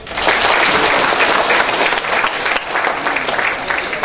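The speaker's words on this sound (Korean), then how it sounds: "일단 박수 한번 보내주십시오" Steady, dense applause from a large audience at a 2013 Korean brand awards ceremony, loud and continuous throughout, with a faint voice mixed in.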